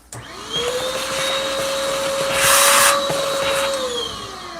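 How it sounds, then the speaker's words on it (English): A vacuum cleaner starts up with a sharp click and settles into a steady, loud whine while it sucks leftover coffee beans and grounds from the hopper of a Breville Barista Pro grinder. The airflow rises briefly midway and then eases off. "So get a vacuum cleaner."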